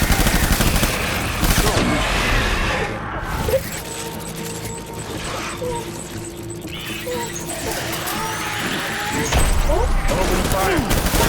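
Gunfire rattles in Death Stranding Director's Cut: dense bursts of rapid shots open and close the stretch, with a quieter pause and voices in between.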